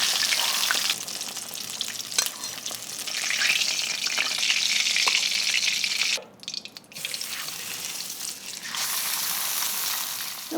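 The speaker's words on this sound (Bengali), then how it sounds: "মাছটা যত্ন নিয়েই ভাজতে হবে," Fish pieces for a fish-head curry fry in hot oil with a steady, close sizzle and crackle that runs throughout, briefly dipping midway, with no talking.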